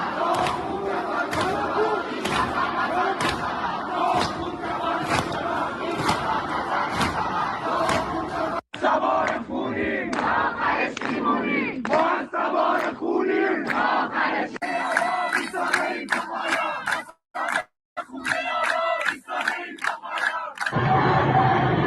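A large student crowd at Amir Kabir University chants slogans in loud, rhythmic unison, with rising and falling waves of voices, sharp claps and thumps, and a few brief gaps in the chanting.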